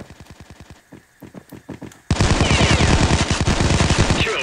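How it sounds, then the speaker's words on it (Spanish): Shotgun fire in the video game Payday Crimewar: a rapid run of sharp, punchy blasts in steady rhythm, growing much louder and denser halfway through into a continuous barrage of close gunfire. "La escopeta esta es muy buena de cerca."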